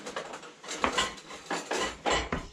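A spoon and a fork are set down on a table with a series of light clinks and taps, several close contacts spaced irregularly over a couple of seconds.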